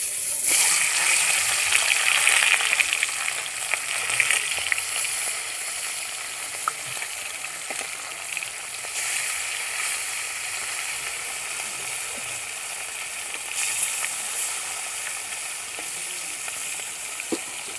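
Sarpunti fish sizzle steadily in hot oil, a loud, continuous bright frying hiss that crackles and spits throughout with small surges, heard close and with no talking.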